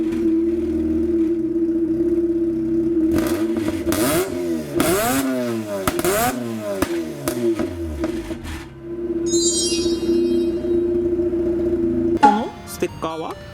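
A fully tuned, naturally aspirated Mazda RX-8 rotary engine with a modified exhaust idles, then climbs through several sharp revs and drops back, loud and close, with brief clatter near the end.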